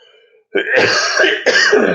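A single harsh throat-clearing cough, close and loud, followed by a second rasping burst after a brief pause.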